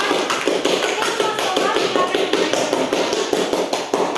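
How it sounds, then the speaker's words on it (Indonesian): A classroom audience claps for a group presentation, a dense run of quick overlapping claps held steady and fairly close throughout. "Kita beri aplaus dulu untuk Mas Komar selaku koordinator kelompok"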